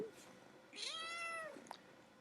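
A single drawn-out cat meow rises and falls close to the microphone in a quiet indoor room, followed by a brief faint noise.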